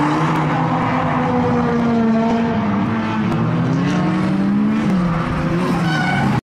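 A Mitsubishi Evo 9 drift car's engine drones loudly and steadily, its pitch rising and falling with throttle alongside faint tire noise, with no voices over it.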